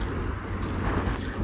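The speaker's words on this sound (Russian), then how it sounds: "Такой ветер на улице." Strong wind outdoors in Yeysk buffets the microphone with a loud, rough rumble and gusty hiss, continuous through a short moment.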